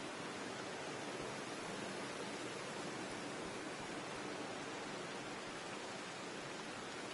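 A waterfall in the video game Season: A Letter to the Future gives a continuous, even rushing hiss, like soft white noise, steady throughout with no talk.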